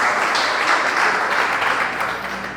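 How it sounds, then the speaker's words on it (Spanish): A congregation applauds during a church service, a loud, dense round of clapping that holds steady before tapering slightly at the end. "Eso merece un fuerte aplauso."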